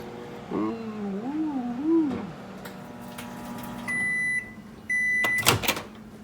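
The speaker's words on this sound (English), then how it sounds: "going to stick it in the microwave for, I don't know, about a minute" A cat meows briefly, then a microwave oven hums steadily and gives several sharp electronic beeps.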